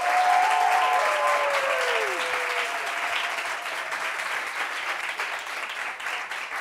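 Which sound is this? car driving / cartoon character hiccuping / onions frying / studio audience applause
studio audience applause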